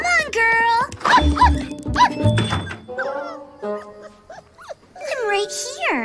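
A cartoon dog barks in short, high yelps mixed in with animated character voices and talk, loud and close throughout.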